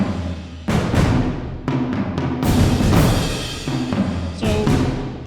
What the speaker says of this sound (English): So let's start with the percussion group, which sounds like this.